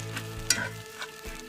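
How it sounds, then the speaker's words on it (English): A spoon stirs a thick sauce of mustard, ketchup and brown sugar for BBQ baked beans, giving short scraping and sloshing sounds over a faint sizzle, close and quiet with no talking. "Go ahead and get all that stirred up together"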